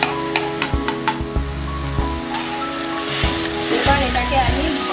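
Salt, turmeric, cumin powder and chilli powder sizzle and crackle loudly in a pan while being stirred, with a run of regular scraping knocks early on and a steady frying hiss underneath.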